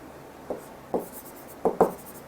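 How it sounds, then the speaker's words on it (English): Chalk or marker strokes scratch across a board in a few short, distinct bursts, close and fairly loud, with brief pauses between each stroke. "see here I am writing 3rd point"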